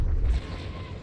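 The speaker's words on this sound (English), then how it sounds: "Okay, I'm hearing shot cannons." A heavy cannon shot booms in a space-combat video game, a single deep blast that rumbles and fades over about a second.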